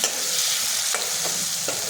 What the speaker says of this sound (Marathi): आता पाहून घ्या, आपले मटर किती मस्तपैकी शिजत आहे